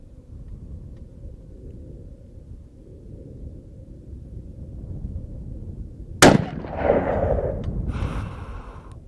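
A .308 rifle fires once in an open desert, a sharp, loud crack breaking a steady low rumble of wind or idling background, followed by a rolling echo that fades over a couple of seconds.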